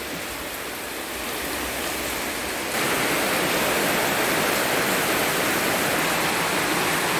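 Steady rain falls around a house, a continuous close hiss of drops on surfaces that thickens and grows louder after the first few seconds and then holds even.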